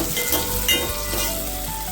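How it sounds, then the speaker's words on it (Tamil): Tomatoes sauté in a pan for a fish curry, giving a steady, close frying sizzle with light stirring scrapes and no voices. "தக்காளி நல்லா வதக்கிக்கிறோம். நம்ம தக்காளி நல்லா வேகட்டும்."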